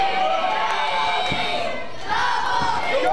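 Wrestling arena crowd at an independent IZW show shouting and cheering, a loud continuous roar of many voices with a swell near the end.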